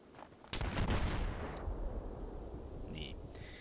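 Gunfire in Battlefield 3, a sudden loud blast with a few quick follow-up shots that rumble and fade into a long low echo, with a faint distant pop near the end.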